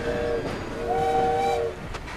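A train braking to a halt in Assassin's Creed Syndicate, with steady rumbling rail noise and a sustained tonal squeal rising through the middle, close and fairly loud.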